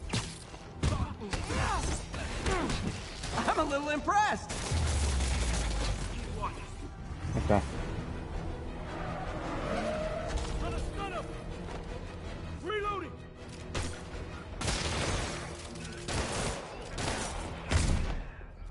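Gunfire in the video game Marvel's Spider-Man on PS5: bursts of shots and impacts crackle through a busy, dense mix of game action, with a voice talking over much of it.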